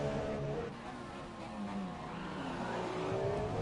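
F1 2017 race cars on the Azerbaijan circuit, engines whining at speed with tyres sliding and squealing, a continuous fairly loud drone with rising and falling pitch sweeps and no talk.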